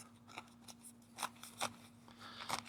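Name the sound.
DC Blades Ceto folding knife cutting thick rubber-lined canvas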